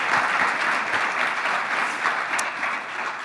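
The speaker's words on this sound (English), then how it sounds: "let's just give them one more round of applause just for keeping us steady" Applause from a conference keynote audience, steady and full throughout with no breaks, a dense crowd of clapping hands close and loud.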